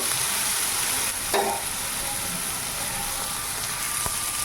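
Pumpkin slices fry in a small amount of oil, producing a constant close sizzle with an occasional stir or scrape and no talking.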